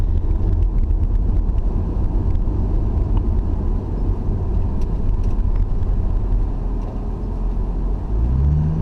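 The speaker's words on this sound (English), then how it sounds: "You add very little throttle to it, and it just takes off." A turbocharged 1999 Lexus GS300 with a 2JZ-GE engine pulls away on light throttle, a steady dense engine roar with rumble and wind buffeting that continues throughout, and no voices.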